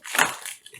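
A Korean fire-style ramen chip being bitten, giving a short, close, crisp crunch with a quick splintering crackle that fades within a second.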